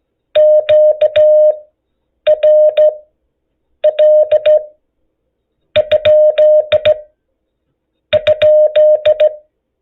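Morse code tones sent by a ham radio operator calling CQ, a steady beeping tone keyed in five short bursts of dits and dahs, repeating the question mark pattern with pauses between, clear and alone.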